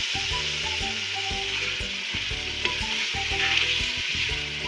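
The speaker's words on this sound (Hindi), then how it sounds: "इसको मसाले को अच्छी तरह भूनना है" Spices with garlic-ginger paste, cumin, coriander and turmeric fry in a pan for a dhaba-style lauki chana dal, giving a loud continuous sizzle with rhythmic scraping strokes of a spoon stirring, and no talking.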